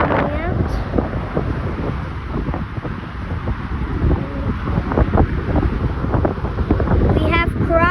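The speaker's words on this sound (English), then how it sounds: "It's very windy and there's a thunderstorm coming" Strong gusty wind buffets the microphone outdoors at Palm Beach International Airport during crosswinds ahead of a thunderstorm, a loud, continuous roar with rumbling low-end turbulence throughout.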